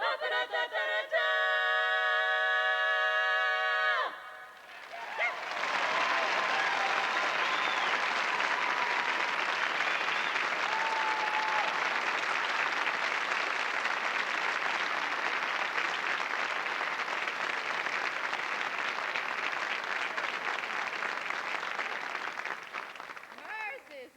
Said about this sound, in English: Are there really people way up high up there clapping?